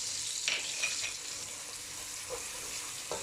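Onions and cumin seeds frying in a pan give a soft, steady sizzle with occasional small crackles and stirring scrapes, faint and close with no talking.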